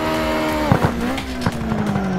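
Car drifting in the CarX drift video game, a steady engine tone that shifts pitch partway through, with short bursts of tire squeal and skidding around the middle, loud and continuous with no talk.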